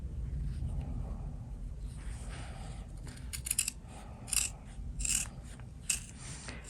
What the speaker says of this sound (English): you can trim this side a bit like that, and then from here just trim the inside.